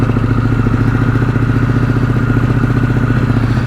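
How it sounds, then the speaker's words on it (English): Harley-Davidson Pan America CVO motorcycle fitted with a Vance and Hines exhaust, its engine running in a steady, continuous rumble with a low throbbing pulse, loud and close, heard from a helmet-mounted mic with no talking. "I got the Vance and Hines, I think it is, exhaust."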